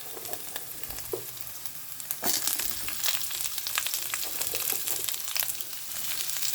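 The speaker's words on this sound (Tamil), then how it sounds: "பூண்டு போட்டுக்கலாம், காஞ்ச மிளகாய் போட்டுக்கலாம், கொஞ்சம் வதக்கிக்கலாம் ஃப்ரெண்ட்ஸ். இப்போ நம்ம ஆனியன் போட்டுக்கலாம்" Onions sautéing in oil with garlic and dried red chili, a loud, steady crackling sizzle close up that intensifies partway through, with light stirring and no talk.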